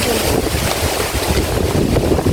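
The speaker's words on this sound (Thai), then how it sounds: "แต่ว่าลมแรงมากเลย" Strong wind buffets the microphone outdoors, a loud, continuous rushing roar with gusty low-end rumble and no break.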